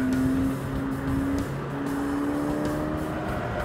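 A Ford Fiesta ST or VW GTI hatchback being driven hard on a race track, heard from inside as a steady, loud engine drone with a shifting pitch and no voices.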